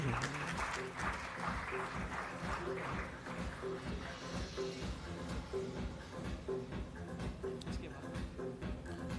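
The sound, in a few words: applause from symposium audience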